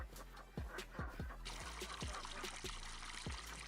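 A hose sprays water for chickens in Farming Simulator 25: a continuous hissing stream that grows fuller after the first second or so, over a rhythmic, thumping game background.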